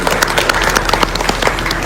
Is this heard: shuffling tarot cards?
no